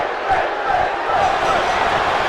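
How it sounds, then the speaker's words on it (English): A virtual arena crowd in the wrestling game WWE 2K17 chants for Finn Balor at a Survivor Series event in Madison Square Garden, a steady loud roar of massed voices filling the short stretch. "And the crowd chanting for Finn."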